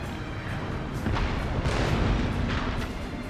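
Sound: cannon firing in Shogun 2 Fall of the Samurai video game

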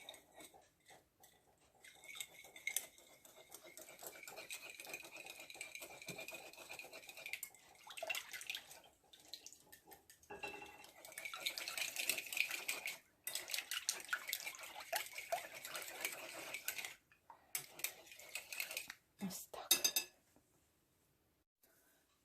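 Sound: stirring breakfast ingredients together in a bowl

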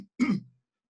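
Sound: wet cough

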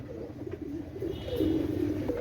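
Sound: Teddy pigeons cooing

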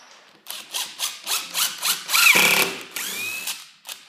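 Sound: power drill driving a screw

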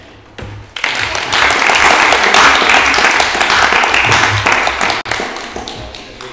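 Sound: round of applause at council meeting

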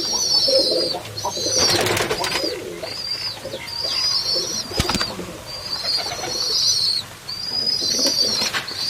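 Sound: pigeons cooing while drinking water

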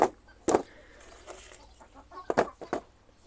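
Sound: chickens clucking in the coop

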